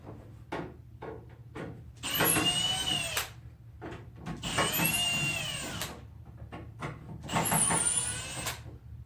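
A power drill spins out screws while door hinges are removed, with three whirring bursts that each rise and fall in pitch, separated by soft clicks and handling knocks.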